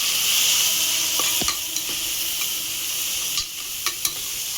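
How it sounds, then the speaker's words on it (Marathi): Onion and Suhana biryani masala fry in a pan with a steady, close sizzle. A spoon stirs and scrapes against the pan now and then, giving several sharp clinks. "हे कांदा वगैरे मसाला फ्राय करत होते. फ्राय झाला आहे. मसाला टाकते."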